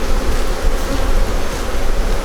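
Dense, steady buzzing of many Buckfast honeybees around an open hive as a frame is shaken above the brood box, a loud continuous drone with no voices.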